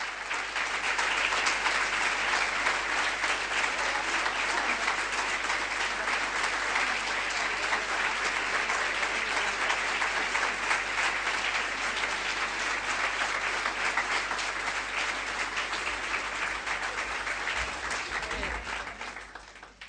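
Sustained audience applause fills a hall for nearly twenty seconds, dense and steady clapping from a large crowd, loud and even throughout before tapering at the very end.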